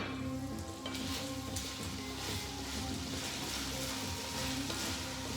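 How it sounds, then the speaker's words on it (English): Lamb kavurma sizzling in a pan on low heat, a dense, steady crackle close by that continues without a break for the whole stretch. "the lamb kavurma is on low heat, although it's sizzling up"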